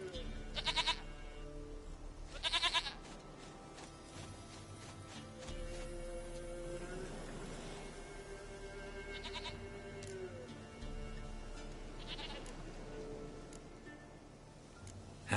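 Goat bleats in a video game, several short bleating calls over a steady game soundtrack and ambient hum, with someone talking at times.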